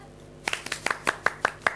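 A handful of sharp, distinct hand claps ring out close by, about ten irregular slaps in quick succession after a quiet start.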